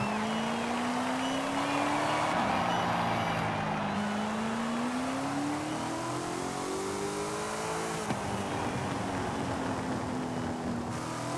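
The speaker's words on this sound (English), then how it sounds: "The burble is very nice, actually." A deep, throaty V8 race car engine in Forza Horizon 5 burbles and revs continuously, pitch rising and falling as it accelerates and shifts, loud and close with no talking.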